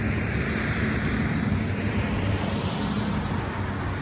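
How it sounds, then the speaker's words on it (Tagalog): Traffic passing on a busy road, a constant blended roar of engines and tyre noise with a low hum, steady and moderately loud, with no speech. "Maraming sasakyan dadaan dito."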